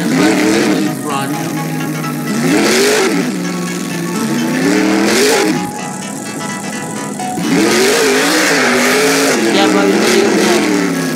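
A monster truck engine in the Rigs of Rods video game roars loud and close during a wheelie run, its pitch repeatedly climbing and dropping as it revs, while a voice speaks over it.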